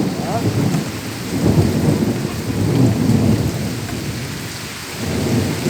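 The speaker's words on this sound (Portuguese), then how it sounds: "agora até trovejou, viu o barulho do trovejão?" Thunder rolls in low, swelling rumbles through a steady downpour, several deep surges rising and fading over heavy rain hitting surfaces nearby, with no voices.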